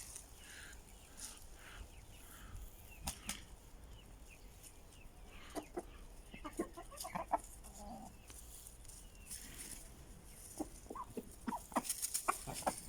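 Chickens in a coop clucking and chattering as pasta is brought to them for feeding, faint scattered clucks and rustling at a distance against a low background hiss, no talking.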